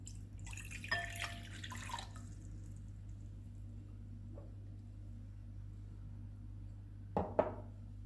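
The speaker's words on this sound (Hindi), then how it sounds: "ये मैंने एक बाउल लिया है, इसमें हम पानी डालेंगे।" Water poured into a bowl for pizza dough: a short, soft splash of liquid at the start, then a few faint drips over a steady low electrical hum.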